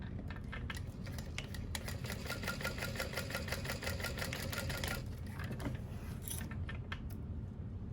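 A sewing machine runs steadily, stitching fabric for a batwing wallet, its fast mechanical chatter continuous and close for the whole stretch with no talking.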